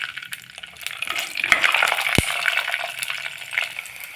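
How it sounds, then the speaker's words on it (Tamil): Fenugreek and cumin seeds, then garlic, frying in hot oil, a steady close sizzle and crackle with a spoon knocking against the pan partway through. "எண்ணெய் சூடானதும் வெந்தயம் கொஞ்சம், சீரகம் கொஞ்சம் சேர்த்து பொரிய விடுங்க. வெந்தயம் பொரிஞ்சதும் பூண்டை சேர்த்துடலாம்."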